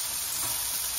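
Pineapple slices charring on a hot griddle give a steady, close, bright sizzle that holds evenly without pause.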